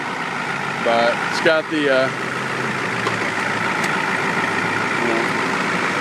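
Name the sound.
1994 Ford F250 diesel truck engine idling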